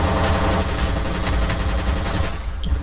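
Rapid automatic gunfire from the first-person shooter F.E.A.R. rattles continuously in loud, dense bursts, fading slightly near the end with no voices over it.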